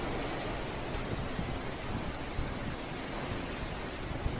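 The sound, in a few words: strong wind during a windstorm in Chitwan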